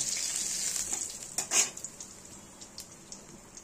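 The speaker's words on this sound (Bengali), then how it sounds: "যে মাছগুলো বাকি আছে সেগুলো আমরা ঠিক একইভাবে ভেজে নেব" Katla fish pieces shallow-frying in oil in a pan, with a steady close sizzle, a brief louder spatter burst and a few light utensil clicks, no talk.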